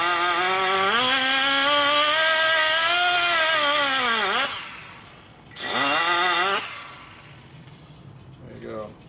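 Power grinder deburring a part for a Harley-Davidson FL Shovelhead stroker big-bore build, a loud sustained whine that sags in pitch under load, cuts out, then returns briefly before spinning down in a workshop.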